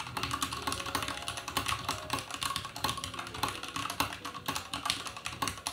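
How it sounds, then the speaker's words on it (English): Rapid, continuous clacking of mechanical keyboard keys, close and steady for several seconds with no voices. "Let's do a little typing test."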